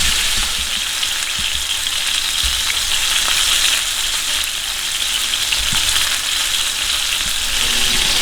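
A pork chop fries in a pan with a loud, continuous close sizzle and crackle, holding steady throughout with no voices.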